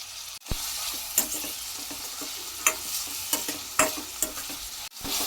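Capsicum frying in a pan with onions, turmeric and salt, a steady close sizzle broken by several sharp scrapes and clacks of a spoon stirring.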